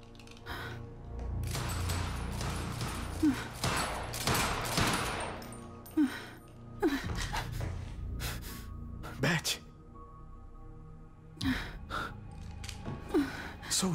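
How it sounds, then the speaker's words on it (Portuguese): Gunfire from a shooting practice range in the video game Quantum Break: scattered shots and short bursts, some sharp and close, mixed with game effects and a person talking over much of it. "Ah, eles estão treinando tiro."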